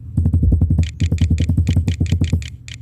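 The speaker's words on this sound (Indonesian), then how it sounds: "ini tekan F2 di keyboard" Keys on a computer keyboard are pressed in quick bursts of sharp, close clicks, a rapid run of taps followed by steadier rhythmic typing, loud and with no talk.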